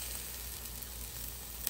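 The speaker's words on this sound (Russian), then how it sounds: "С одной стороны поджариваем 4-5 минут и с другой." Flatbread frying in a hot pan with just a drop of vegetable oil, giving a soft, steady, even sizzle that stays faint and continuous with no speech over it.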